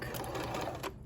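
A sewing machine runs steadily while stitching in a zipper, a continuous close mechanical whir with a fast needle rhythm that lasts about a second before it cuts off.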